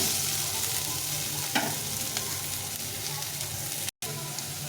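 Vegetables for veg chowmein fry in a pan with a loud, continuous close sizzle, a couple of brief scrape sounds from stirring and a short cut near the end.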